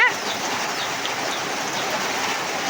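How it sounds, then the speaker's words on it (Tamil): Heavy rain falls in a steady, dense hiss that fills the whole clip with even intensity, with no voices over it. "மழை பயங்கரமாக வர்றதுனால"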